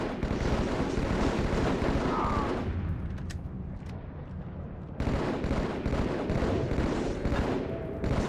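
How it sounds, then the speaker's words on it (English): Heavy explosions and rapid gunfire from a bomb drop in the Halo Master Chief Collection, a dense, loud barrage that briefly thins in the middle before booming back at full intensity. "Bomb drop."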